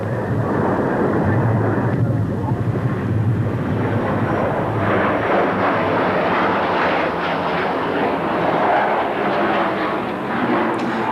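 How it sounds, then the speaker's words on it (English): Roaring jet noise from an English Electric Canberra trainer aircraft, loud and continuous as it flies an aerobatic display sequence, with a broad rumbling wash that swells slightly midway. "the Canberra Trainer is now seen to advantage in a spectacular sequence which shows off her amazing manoeuvrability"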